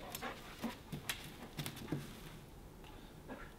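Quiet, rhythmic panting from an assistance dog resting nearby indoors, short huffing breaths in quick uneven bursts, faint and close, with light shuffling between them.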